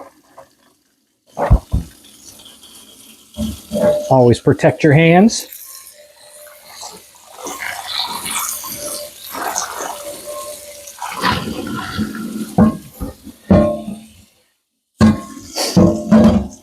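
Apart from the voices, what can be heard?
hot water poured into cast iron pan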